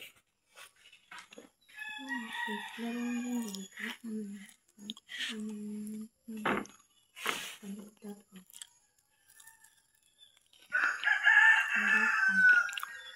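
A rooster crows a couple of times with harsh, drawn-out calls, loud and fairly close, alternating with people talking nearby.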